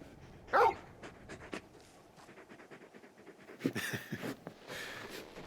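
Torgal, the large dog companion in Final Fantasy XVI, pants and breathes in soft rhythmic bursts, with a sharper huff near the start and scattered movement noises later, fairly close and moderately quiet.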